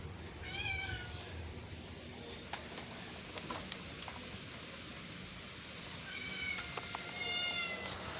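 A house cat meows repeatedly in short, rising cries, at about one second and again near six to seven seconds, over a steady background hiss during a lightning storm.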